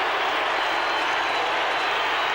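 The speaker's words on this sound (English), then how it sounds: "The booing mixed with cheering." Stadium crowd at an Australian football match between Carlton and Geelong, booing mixed with cheering as a dense, steady roar throughout, loud and continuous with no clear breaks.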